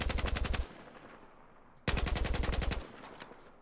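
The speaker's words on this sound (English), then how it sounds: "I'm just going to shoot at the wall." In Battlefield 4, an AR160 rifle fires at a wall in two rapid full-auto bursts of sharp, evenly spaced shots, each burst about a second long, separated by a short quiet gap.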